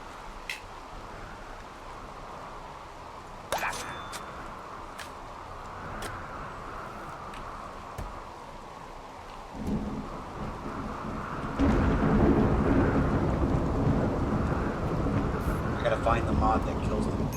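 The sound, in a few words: rain and thunder in a video game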